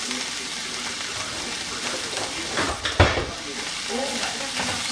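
Portobello mushrooms, onions and peppers sizzle steadily in a pan for cheesesteak while being stirred, with a few louder scraping stirs partway through.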